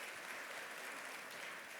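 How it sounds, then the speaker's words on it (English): Sustained round of applause from a summit audience honoring the panelists at a mental health awareness event, a dense, steady wash of many hands clapping throughout with no talk over it. "I would just like everyone to give applause to our panelists that are next to me"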